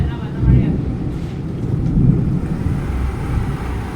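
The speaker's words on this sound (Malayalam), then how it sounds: "അപ്പം ഇടിമിന്നലുണ്ട്." Thunder during a storm at a home in Kerala gives a low, continuous rumble that swells twice, loud and close enough to fill the whole clip.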